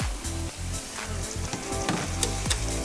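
Beef and vegetable stir fry sizzling in a hot pan, a steady close frying hiss running the whole time over a low rhythmic background.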